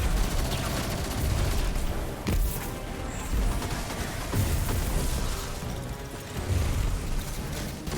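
Sustained automatic gunfire in the Destiny video game, a dense continuous fusillade of shots with occasional heavier booms, loud and steady throughout with no talking.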